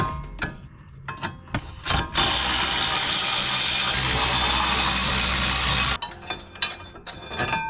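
A ratchet works on the 17 mm brake caliper bracket bolts of a 10th-generation Honda Civic, with several quick clicking bursts, then a long loud run of fast ratcheting before more short clicks, close up.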